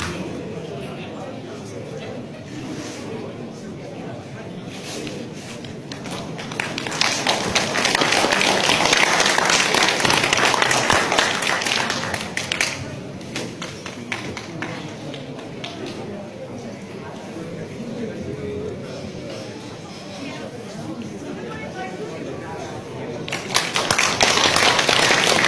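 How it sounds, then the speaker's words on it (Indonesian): An audience at a Ngo Cho Kun martial arts heritage ceremony breaks into applause for an honoured guest, the clapping swelling in two louder bursts over ongoing talk and crowd murmur. "Tepukan yang meriah untuk Bapak"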